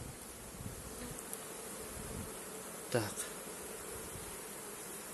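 Honeybees hum in a dense, continuous drone close by in an open hive during autumn nest preparation, with a brief word spoken and a short bump partway through.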